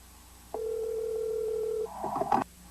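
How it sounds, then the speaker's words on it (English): A telephone emits a single steady electronic tone lasting about a second, followed by a short burst of clattery handling noise. "Someone's getting a phone call."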